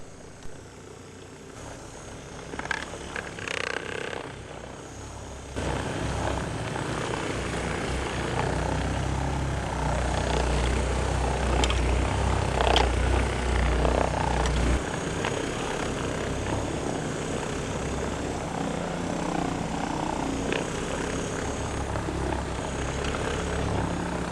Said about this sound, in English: An electric buffer makes short work of it